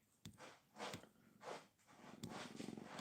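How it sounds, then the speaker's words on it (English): A cat purrs close to the microphone, the low rumble pulsing in slow breaths roughly every half second, with a few sharper clicks and a steadier, louder stretch toward the end; no voices are heard. "Oh, yeah, it's a kitty, Tracy."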